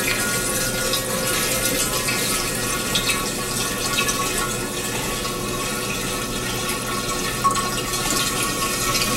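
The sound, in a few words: water being poured into a jug for strawberry wine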